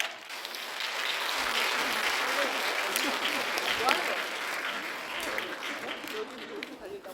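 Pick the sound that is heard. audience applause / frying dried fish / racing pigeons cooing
audience applause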